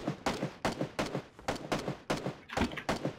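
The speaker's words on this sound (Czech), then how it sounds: "Někdo tady střílí" Gunfire in the video game PUBG: a rapid, evenly spaced string of about nine sharp, punchy shots within three seconds, close and loud, with no talk over them.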